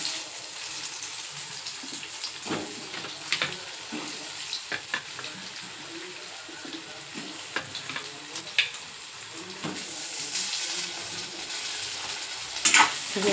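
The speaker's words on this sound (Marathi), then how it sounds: "सगळे बटाटे असे त्याला परतून घ्यायचे." Potatoes sautéed in oil with turmeric and coriander powder hiss in a steady sizzle, with frequent scraping and clattering stirs throughout.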